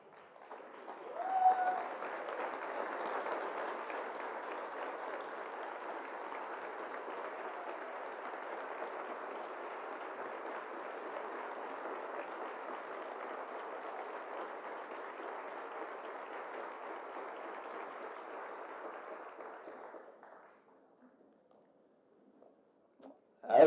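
An audience at a college fall convocation gives the faculty a long standing ovation, loud steady clapping for about twenty seconds before it fades out.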